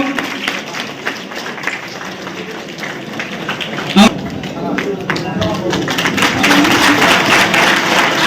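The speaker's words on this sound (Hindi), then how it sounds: "ताली बजाते रहिए आप लोग" Crowd clapping at a Guru Ravidas Jayanti celebration at a Ravidas temple in Ayodhya, scattered applause running beneath someone talking loudly over a microphone and swelling toward the end.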